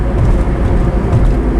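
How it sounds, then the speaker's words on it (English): A car on a highway between Duluth and Minneapolis, with a calm, compliant suspension, rattling over frequent expansion joints. A loud, constant low road rumble carries small knocks and rattles inside the cabin. "You can hear the things rattling around in my car."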